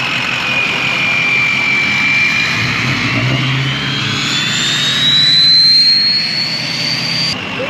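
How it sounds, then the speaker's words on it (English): Turbocharged car engine at a fall rod run, a loud sustained turbo whine rising in pitch over a rumbling engine, with a brief lower swell midway and no talk. "that turbo is so loud"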